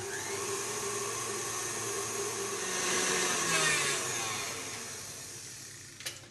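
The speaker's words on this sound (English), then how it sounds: "I've just got to grab my mixer and I'm just going to beat them together straight away until they're pale and thick" An electric hand mixer beating egg yolks and sugar, a steady whirring motor drone that swells slightly in the middle and ends with a brief clatter.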